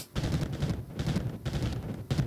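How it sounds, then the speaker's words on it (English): Rapid bursts of weapon fire in the video game Fungal Pass, a fast repeating clatter of shots in quick succession with brief gaps between volleys, loud and up close. "Their fire sound sounds like enemies dying for some reason"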